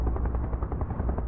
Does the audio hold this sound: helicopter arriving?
yes